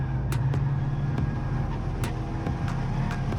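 A Hyundai Veloster N runs fast on a track, its engine holding a steady high-rpm drone with a few sharp clicks and ticks over the top, heard alone at moderate loudness.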